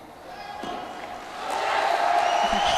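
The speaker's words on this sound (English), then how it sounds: "Huge cheer from the crowd and from himself upon dismount." Crowd at a gymnastics World Challenge Cup in Mersin swells into cheering after a gymnast's dismount, building from murmur to a louder roar over a few seconds, with a commentator's voice over it.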